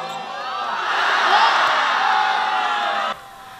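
Crowd at a school basketball game cheering and whooping, with shouts swelling loudly and continuously for about three seconds before cutting off; little distinct clapping stands out.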